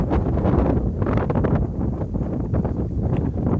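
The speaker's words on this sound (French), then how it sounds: "Il y a bien du vent puisque je suis au niveau de l'arête rocheuse." Strong wind blows across a rocky ridge high on a hill and buffets the microphone. The rumbling gusts are loud and continuous, with no voices.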